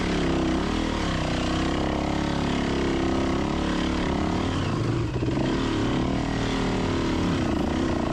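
Hard enduro dirt bike engine held under steady throttle during a rocky climb at the Grinding Stone race, a continuous droning buzz with slight pitch wavers as the rider adds gas, close and constant.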